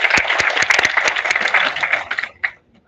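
Applause from a seminar audience greeting a guest, with crisp individual claps standing out near the start, thinning out over two seconds, then a last few claps and silence.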